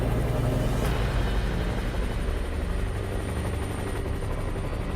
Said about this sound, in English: The helicopter shifted course, rapidly closing in.